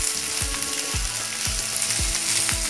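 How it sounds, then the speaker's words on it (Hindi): Capsicum sautéing over a high flame for chicken macaroni pasta, a strong steady sizzle punctuated by rhythmic spatula strokes about twice a second, up close. "अब साथ ही हम इसमें डालेंगे शिमला मिर्च, मिक्स कर लेंगे इसे भी और हाई फ्लेम पे ही हमें इसे सौते कर लेना है"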